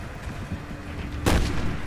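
An explosion bursts in the Resident Evil 6 video game, one sharp loud blast with a deep rumbling tail, rising out of a steady low background of game noise.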